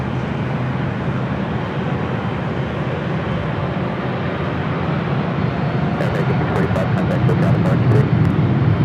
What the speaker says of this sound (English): Smoky 757 rolling down at 24 left.